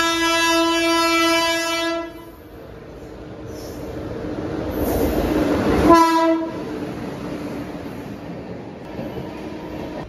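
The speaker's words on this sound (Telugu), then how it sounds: "ప్లాట్ఫామ్ నెంబర్ 3లో ట్రైన్ వస్తుంది చూసారా, మెము ఎక్స్ప్రెస్." The Bhimavaram–Nidadavolu MEMU express pulls into platform 3 at the renovated Nidadavolu station, sounding a long, loud, steady horn blast, followed by a rising rumble of wheels and a brief second horn toot.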